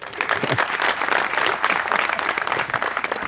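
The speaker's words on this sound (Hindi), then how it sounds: "तालियां।" A TV talk-show studio audience claps in a short, dense burst, lively and fairly close, with brief swells in intensity and no talk over it.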